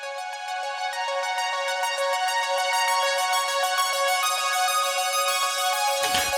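A bright synthwave arpeggio built from stock Logic synth plugins, jumped up an octave for the chorus, runs as a steady stream of rapid repeating synth notes, clean and alone until a brief low thump at the close.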